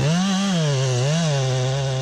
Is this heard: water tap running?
no